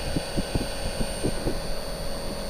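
A BOWA heat pump runs with its cover removed, giving a steady low hum with soft regular thumping pulses, fairly quiet and close, no talking.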